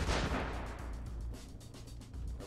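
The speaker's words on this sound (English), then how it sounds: "he's shooting at civilians" Distant, muffled gunshots and a low rumble in the tactical shooter Ready or Not inside a hotel, faint repeated bangs in a steady rhythm with no clear talk.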